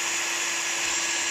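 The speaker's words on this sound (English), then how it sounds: "So just drilling that out." A power drill bores through a pipe while a universal bait tray for sea fishing is built, a steady, loud, high-pitched whine that holds for the whole stretch with no voices.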